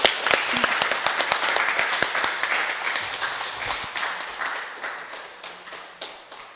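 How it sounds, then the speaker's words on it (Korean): An audience at an evening retreat bursts into sustained clapping to welcome a priest, a dense, lively applause that starts strong and gradually tapers off. "신부님 큰 박수로 환영하겠습니다"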